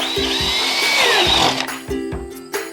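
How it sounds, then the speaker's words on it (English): A power drill with a 5/16 bit whines at high speed through a sustained bore into a Honda Pioneer 1000's air intake cover, then the pitch drops and a few short bursts follow as it finishes. "Take my drill with my 5/16 drill bit. And while it's in place, go ahead and drill my 2 holes."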